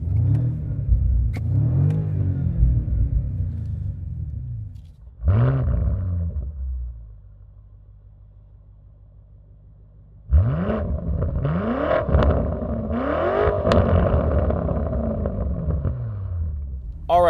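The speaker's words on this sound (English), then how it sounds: "Everything is warm, so let's give it some revs." BMW G90 M5 with Meisterschaft exhaust, warmed up, is revved repeatedly up close: loud roaring blips that rise and fall, a quieter idle stretch in the middle, then a series of sharp rapid revs with crackles.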